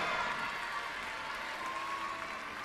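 Applause fills a gymnastics arena at the 2015 European Artistic Gymnastics Championships, a steady wash of clapping from a large audience that holds even from start to finish.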